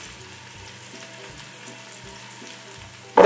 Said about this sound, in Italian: Ora facciamo rosolare le nostre verdure